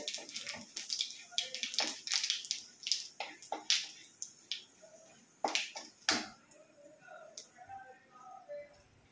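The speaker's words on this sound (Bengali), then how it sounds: "জিরে, শুকনো লঙ্কা, তেজপাতা, ছোট এলাচ ফাটিয়ে, দারচিনি কয়েক টুকরো। ফোড়নটা ভালো করে ভাজতে হবে।" Whole cumin, dried chili, bay leaf, cardamom and cinnamon fry in hot oil for a Bengali chhena bora curry, crackling and popping in irregular sharp bursts up close.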